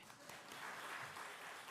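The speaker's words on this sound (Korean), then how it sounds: "박수합시다, 그들에게." Congregation applause during a church worship service, a steady wash of many hands clapping at moderate level throughout a short burst.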